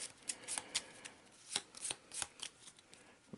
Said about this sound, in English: Let's give them a quick shuffle.